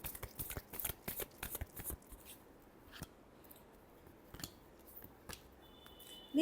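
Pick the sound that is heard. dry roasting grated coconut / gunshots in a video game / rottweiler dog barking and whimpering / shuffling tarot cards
shuffling tarot cards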